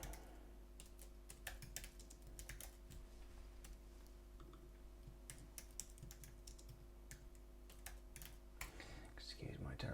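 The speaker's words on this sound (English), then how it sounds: "excuse my terrible typing" Rapid, uneven keystrokes clatter on a computer keyboard, close and fairly quiet, with a low steady hum in the background.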